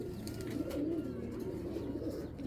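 Two female pigeons coo steadily in low, throaty, continuous murmurs, fairly close and alone, with no voices.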